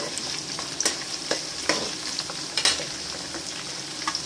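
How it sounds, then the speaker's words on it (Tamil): Dried red chillies fry in hot oil with a steady, close crackling sizzle, broken by a few sharp pops and stirring scrapes, with no voices. "இப்போ நம்ம வத்தல் போடுவோம் காஞ்ச வத்தல் மிளகா வத்தல்"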